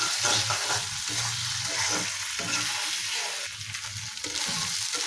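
Ginger-garlic, onion and green chilli paste frying in a pan, a continuous dense sizzle with rhythmic scraping as the paste is stirred, close and fairly loud.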